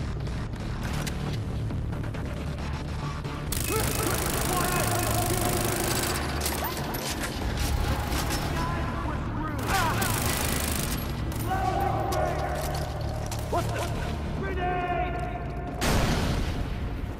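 Enemy gunfire in the video game Far Cry 3: sustained bursts of automatic fire and explosive booms rattle nearly nonstop, with the game's sound effects layered densely throughout.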